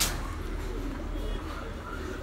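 Soft, low cooing of paired pigeons in a pigeon loft murmurs close by against faint background noise, brief and continuous.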